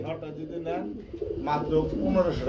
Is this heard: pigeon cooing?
yes